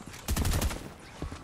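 Fortnite gunfire rings out in a rapid burst of several sharp shots, followed by a lone later shot, fairly loud and close with faint game ambience between.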